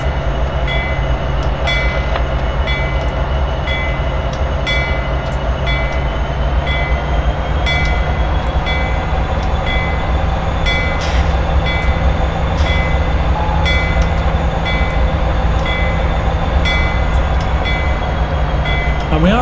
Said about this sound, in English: as we are passing through with this very heavy and long freight train